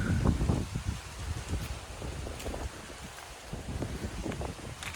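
Strong wind gusting outdoors in a cool, open area at Navatkuli near Jaffna, with a steady rough rush that surges and eases, loud and close against the microphone and carrying no speech.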